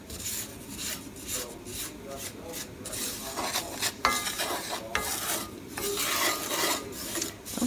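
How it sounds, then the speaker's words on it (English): Sesame seeds toasting in a hot pan, stirred continuously with a rhythmic scraping and rasping, faint sizzle beneath the repeated strokes. "turn the fire off and then continue stirring because they still have the heat and they are still cooking"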